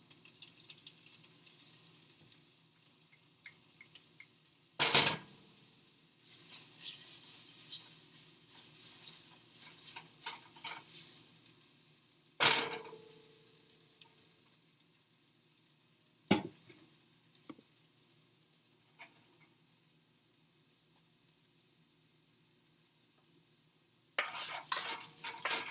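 Garlic and tomato paste are stirred in a cooking pan while making spaghetti meat sauce, a quiet faint sizzle with scattered scraping and clatter of a utensil and a few loud sharp knocks against the pan, no one talking.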